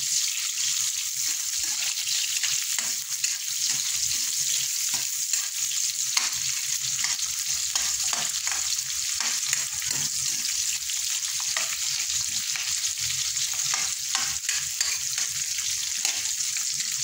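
Eggs frying in a pan with onions, a bright steady sizzle and crackle with repeated soft stirring clicks, close up and continuous with no voices.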